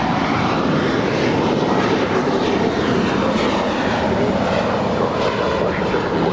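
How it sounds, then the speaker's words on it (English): A JetBlue Airbus A320-200 jet airliner at LAX sends out a loud, continuous engine roar that holds steady throughout with a broad rushing tone. "here we have a super light JetBlue 1463 to Cabo, San Jose del Cabo on an A320-200."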